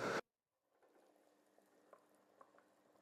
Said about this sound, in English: It's just bubbling a little in 1 or 2 spots.